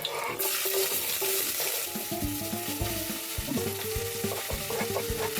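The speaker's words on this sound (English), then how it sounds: "You have to test the oil, so you put one piece in, if it's sizzling" Spinach sizzles loudly in hot oil in a pan, with a steady crackling hiss and occasional clinks and scrapes of stirring, close and continuous throughout.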